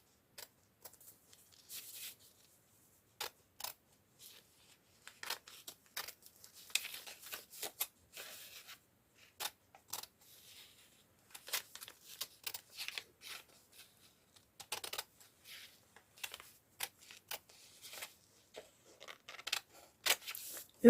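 Scissors snip through rayon fabric while a jar-shaped pants pattern is cut, giving quiet, crisp, irregular clicks and slicing sounds in short bursts against near silence.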